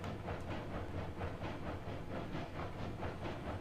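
A train rolls along the track in the railway game Railroads Online, giving a steady rumbling run with faint rhythmic clicking at a moderate, even level and no talk.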